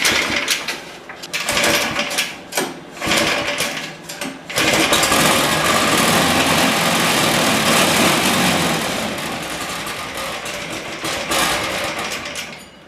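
An abandoned go-kart's small engine coughs through a few short bursts, then catches and runs steadily at a loud, buzzing high idle close by.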